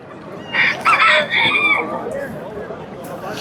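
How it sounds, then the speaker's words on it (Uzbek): Roosters at a poultry market in Namangan, a close, loud crow with clucking, rising then trailing off amid market background noise. "Yo'q, ikkalasi ham xo'roz."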